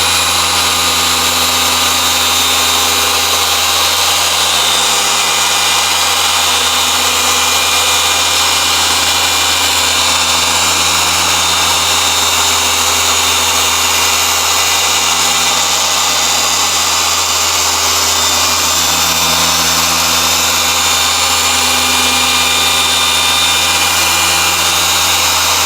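A polishing machine buffing the paint of a Ford Fiesta ST runs loud and steady for the whole stretch, a constant motor whine and hum that never lets up.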